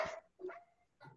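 A small dog gives three short, faint yips or barks in the background, spaced apart with quiet gaps between them.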